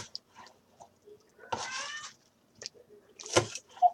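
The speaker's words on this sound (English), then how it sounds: "There's a cat. Can you guys hear my cat?" A domestic cat whines indoors with a couple of short, moderately loud meows separated by quiet pauses and faint clicks, with no talk.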